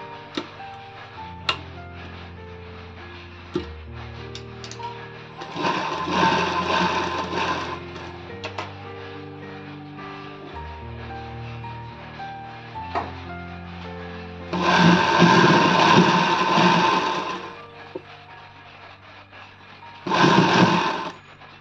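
A sewing machine stitches a frill sleeve in three separate bursts of rapid mechanical whirring, with quiet ticking, clicks and fabric handling in the pauses between runs.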